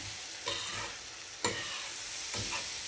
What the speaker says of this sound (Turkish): bulgurum ve eriştelerimi yavaş eriştelerimi kırmadan